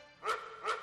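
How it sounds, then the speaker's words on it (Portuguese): A dog passing by gives two short, fairly loud barks about half a second apart, with no other sound around them. "tá passando um lindo cachorro aqui"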